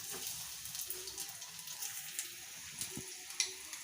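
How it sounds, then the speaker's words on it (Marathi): Soaked fenugreek powder roasts in ghee for fenugreek-jaggery laddoos, giving a faint, continuous fine sizzle with a few soft stirring scrapes and a small clink near the end. "आता ह्या तुपात आपल्याला ही भिजवलेली जी मेथीची पावडर आहे ती भाजून घ्यायची आहे"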